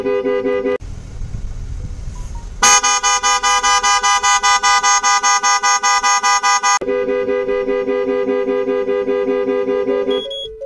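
A 2022 Ford Fiesta ST horn, triggered by a Starline immobiliser alarm, blares loudly in a steady continuous tone. It cuts in early, jumps to a harsher, louder blast partway through and keeps sounding with slight shifts until near the end.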